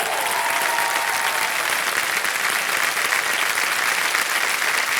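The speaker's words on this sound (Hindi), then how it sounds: "तालियां बज जाए जोरदार।" A studio audience at a quiz show claps loudly, a dense, sustained wash of applause with no breaks from start to finish, heard up close and alone.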